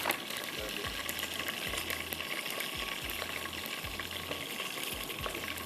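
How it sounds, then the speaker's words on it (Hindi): Water is poured into a pan of frying spices and curry leaves, producing a quiet hissing, bubbling sizzle with a low recurring thump, steady throughout. "अब मैं इसमें थोड़ा पानी डाल रही हूँ, कड़ी पत्ता जल ना जाए।"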